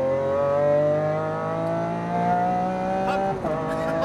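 A mid-engine sports car at EXR Las Vegas, a GT2 RS or Aventador SVJ, pulls hard at full power on a track, its engine note climbing steadily and loud before a quick upshift drops the pitch near the end.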